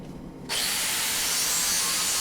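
A power grinder biting into metal while blacksmith tongs are made, starting abruptly after a brief quiet moment and then holding a loud, steady, harsh whine to the end.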